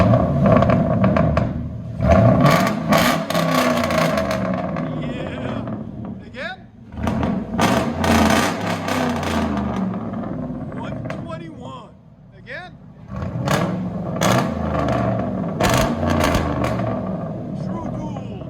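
A Chevy Silverado with a 5.3L V8 and true dual straight-pipe exhaust ending in 5-inch tips idles and revs in loud, repeated bursts with short pauses between them. People talk over the engine throughout.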